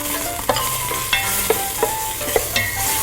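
Beef stir-frying in sesame oil in a preheated pot on an induction hob, a steady close sizzle broken by a few sharp scrapes of a utensil against the pot, no voices.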